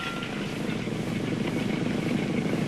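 The engine of an American-made military plane flown in Laos drones steadily and loudly without a break.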